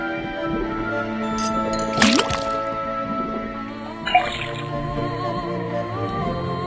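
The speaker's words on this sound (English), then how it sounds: "then tap the faucet." A faucet drips liquid in the Detective Grimoire video game, two distinct wet plopping drips over a steady tonal music backdrop, with no talking.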